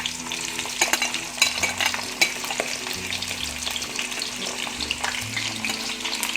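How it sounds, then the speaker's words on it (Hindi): A medium onion frying in hot oil for a green bean and potato sabzi, a steady close crackle and sizzle with occasional stirring clicks and scrapes, no speech. "ऑयल हमारा गर्म हो चुका है और अब हम इसमें प्याज ऐड करेंगे।"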